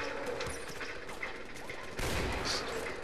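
Gunfire crackles in the video game Far Cry 4 while a bear attacks on a mountain, with several short, sharp shots in quick succession over a noisy outdoor game background.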